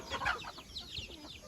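Native country chickens (nati koli) give a quick burst of soft, close clucking calls, busy and uneven over a short stretch.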